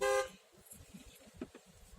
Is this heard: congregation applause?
no